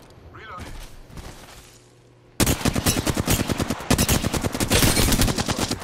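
Rapid bursts of automatic gunfire in Apex Legends ranked play, loud and close, in two long volleys after a quieter stretch with a voice talking.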